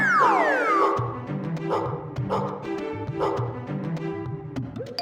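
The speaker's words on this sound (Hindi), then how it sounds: "अरे बाप रे, कुत्ता कुत्ता!" A dog barks in repeated sharp, loud bursts at a steady rhythm, close by, with an initial high whine or whistle-like sweep at the start.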